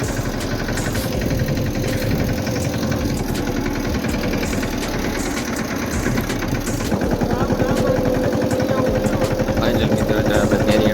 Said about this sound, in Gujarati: તો આપણે ટ્રેક્ટર જાય છે